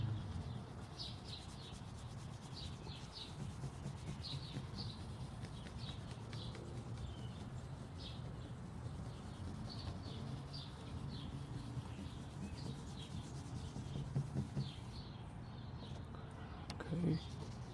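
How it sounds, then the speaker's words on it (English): Hand wet sanding of a scratch in car paint with a 3M kit, strokes running horizontally; a steady rubbing swish repeats in a loose rhythm, close and fairly faint, over a low background hum. "Start sanding it horizontal wise."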